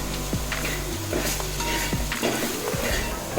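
Kerala beef roast masala with meat masala sautés in a pan, steady sizzling and crackling broken by scraping stirs and light knocks of a spoon against the pan.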